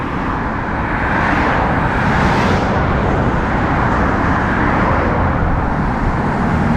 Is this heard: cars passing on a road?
yes